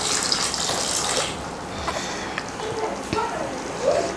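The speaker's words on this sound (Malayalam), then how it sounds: "കുറച്ച് ചൂടുവെള്ളം ചേർത്ത് കൊടുക്കണം ഇപ്പം തന്നെ." Hot water poured from a vessel into mutton kurma curry in a home kitchen gives a close, splashing gush for about a second, then fades into small clinks and stirring sounds.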